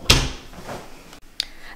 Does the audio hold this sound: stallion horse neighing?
no